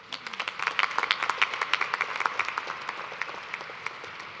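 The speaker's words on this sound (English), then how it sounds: "Please give Dr. Brown another round of applause to thank her." An audience claps at a graduate commencement and doctoral hooding ceremony, a close, crisp patter of many individual hand claps that is strongest early on and thins gradually toward the end.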